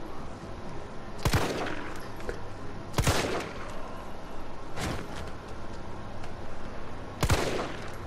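Four sharp gunshots in the video game Resident Evil 3 Remake demo ring out at irregular intervals, each a loud crack with a short decay over a quiet, steady background hum.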